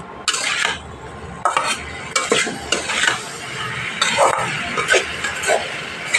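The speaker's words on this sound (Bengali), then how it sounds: "প্রত্যেকটা উপকরণ দিয়ে মশলার সাথে ভালো করে সবজি কষিয়ে নিতে হবে" Vegetables (ridge gourd and potato) are stir-fried with coriander, Kashmiri chili powder and chili powder in a pan: repeated close scraping strokes of a spatula come in bursts over a soft sizzle, with no voices.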